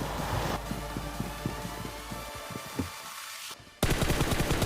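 Rapid gunfire bursts from PUBG Mobile, loud and close, with steady rattling shots, a brief lull, then another hard burst of fire.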